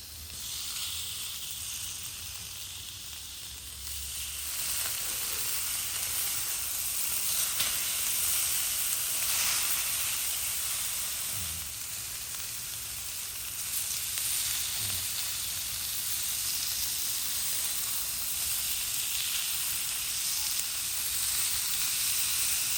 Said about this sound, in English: let's go ahead and sear our tuna